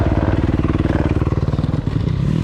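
A Chinese pit bike's small engine chugs steadily on a test ride, a loud, close, rapid putter with a regular pulsing beat and no voices.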